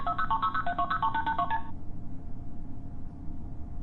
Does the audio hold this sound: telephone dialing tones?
yes